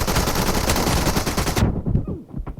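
Automatic fire from a UMP submachine gun in PUBG Mobile rattles in a loud, rapid, continuous burst, then cuts off abruptly into quieter scattered game sounds.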